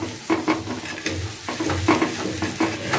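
A spoon stirs a henna and oil mixture as it warms in a pan, with gentle frying sizzle under repeated soft scraping strokes, close and steady with no talking.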